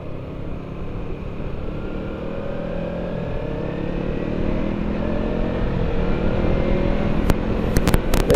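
A Kawasaki Ninja 300 with a softer stock exhaust rides along a river, a steady muted engine drone that swells slightly, with a few sharp clicks near the end.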